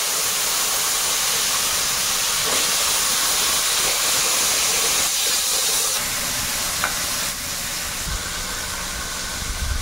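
Bitter gourd and potato pieces fry in hot oil with five-spice seeds, a steady loud sizzling hiss with occasional stirring scrapes running throughout, close up and without talk.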